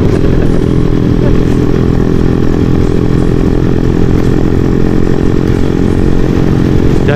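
A Honda Tiger motorcycle engine runs steadily and loud and close, a continuous rough mechanical drone without pauses.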